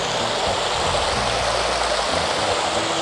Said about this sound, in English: malls have running water in fountains